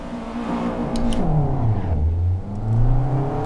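A race car engine in the Assetto Corsa sim racing game climbs and falls in pitch through shifts and revs, a steady whirring drone with no talking.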